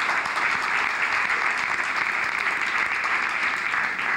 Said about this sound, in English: So I think we should applaud Brother Maddox